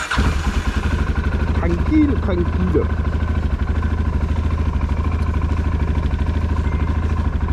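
A motorcycle or quad engine runs loud and close with a steady, throbbing idle as a road ride gets under way, and a voice speaks briefly over it.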